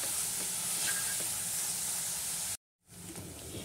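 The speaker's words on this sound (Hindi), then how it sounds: "डाल के इसे चलाते हुए अच्छे से फ्राई कर लीजिए" Chopped onions frying in a pan over a medium-high flame, a steady, soft sizzle that cuts out abruptly, then resumes more faintly.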